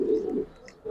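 A Giribaz pigeon gives a brief low cooing call, close and clear, trailing into quiet with a faint sound near the end.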